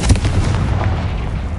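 A Confringo fire spell from the Hogwarts Legacy video game detonates as one loud, close, booming blast that rumbles and decays over about a second and a half.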